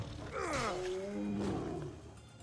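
A mountain lion in Assassin's Creed Odyssey lets out two close, loud snarling roars, the second shorter, over a faint game background.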